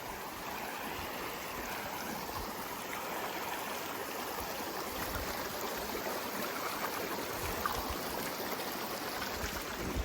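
Mountain stream on a wild basin trail in Rocky Mountain National Park, a continuous close rushing and burbling of flowing water, steady and alone without voices.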